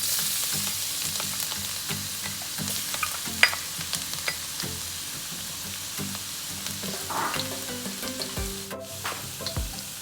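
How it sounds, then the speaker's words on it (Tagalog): Garlic sizzles in hot oil in a pan for fresh lumpia filling, a steady crackling fry with occasional stirring scrapes and clinks, close and continuous. "sa paggigisa dapat hindi nasusunog ang bawang"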